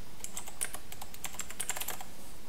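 Keys on a computer keyboard tapped in quick irregular bursts while entering text in CapCut on a PC, close and fairly quiet, with no voices.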